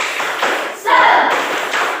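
Primary school pupils in a classroom perform a tepuk semangat spirit clap routine, a loud, close run of rhythmic clapping and thumping with chanting voices mixed in.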